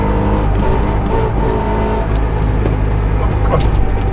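An old Trabant car accelerates from a standstill toward 50, its small engine droning steadily and loud from inside the cabin, with a slight rise in pitch and no talk.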